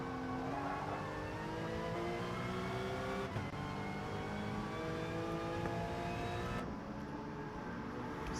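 A Group 4 race car in a racing video game holds a loud, steady engine drone with rising rev harmonics, continuous throughout and shifting pitch near the end, with no voices.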